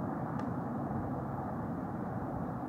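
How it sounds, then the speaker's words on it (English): An airplane passing overhead on a quiet evening, heard as a faint, steady low engine rumble with no voices. "the 6th airplane"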